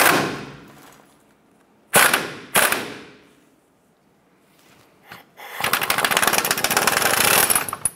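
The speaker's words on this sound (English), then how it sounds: "So we have our ball joint press here." A ball joint press forcing the lower ball joint out of a 1994–2004 Chevrolet S10 suspension: two sharp metallic bangs, a pause, then a long, loud, continuous rattling drive.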